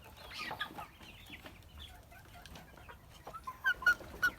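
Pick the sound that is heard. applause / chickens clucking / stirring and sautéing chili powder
chickens clucking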